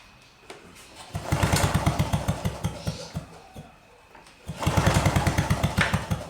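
Mustang 20 two-stroke lawnmower engine being pull-started, with the spark being checked: two bursts of rapid, even chugging from the cord pulls, close and fairly loud, separated by a quiet pause.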